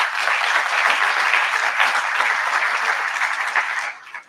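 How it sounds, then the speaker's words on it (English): Sustained applause from an audience in Albany during a visit by the Dutch king and queen, honoring Antonio Delgado; dense, even clapping for about four seconds that tapers off at the end. "Let's give him a round of applause as well."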